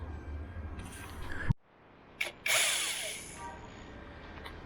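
Cordless drill on a dirty aftermarket motorcycle carburetor, a buzzing motor run that cuts off abruptly, followed by a short silence, a brief tap, then a harsh hissing whir that fades.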